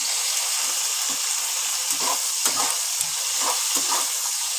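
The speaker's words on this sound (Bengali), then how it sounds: "দিয়ে এবার আবার একটুখানি ভাজা ভাজা করে নেব" Chopped onions fry in a pan with potatoes and carrots, a steady bright sizzle with soft scraping stirs every second or so, close and continuous.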